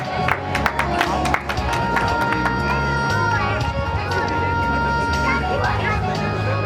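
Audience at a school annual day function applauding students, a steady dense wash of clapping and crowd noise that carries through the whole stretch with a few sharper claps rising near the start.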